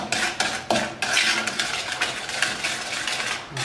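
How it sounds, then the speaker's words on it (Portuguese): Spoon scraping and stirring thick chocolate Nega Maluca cake batter in a pan on the stove, a steady run of close, loud scrapes and clinks with no talking. "A gente vai mexer até quando começar a se desprender da panela."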